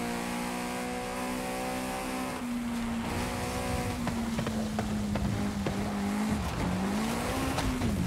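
A car in the racing game Forza Horizon 5 holds a steady, droning engine note that dips and climbs as it revs, with tire squeal and scraping bumps layered over the continuous roar.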